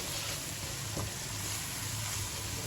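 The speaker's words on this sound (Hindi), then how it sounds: "तो मसाले को अच्छे से भून लेंगे।" Spice masala with crushed coriander fries in oil for an aloo matar moongre dish, a steady soft sizzle with a single stir or scrape partway through, no voices.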